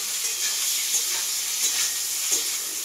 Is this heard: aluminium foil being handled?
no